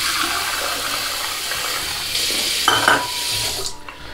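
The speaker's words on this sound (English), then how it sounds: "Just put some hot water in this other one." Hot water pours and splashes into a bowl, a steady rushing wash that swells and shifts near the end with a few light clinks, fairly close with no voices.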